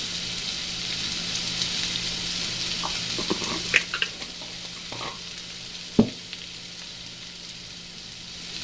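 Onions with turmeric and salt sauté in a pan for mutton curry, a soft continuous sizzle broken by scattered spoon scrapes and a sharp clink, quiet and close.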